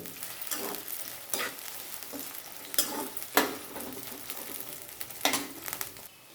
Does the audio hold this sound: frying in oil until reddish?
yes